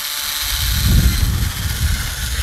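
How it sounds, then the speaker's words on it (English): A power drill bores a hole through the wall of a chest freezer, its motor whining steadily while the load rises and falls as the bit cuts through, heard up close. "we're gonna go ahead and drill through that"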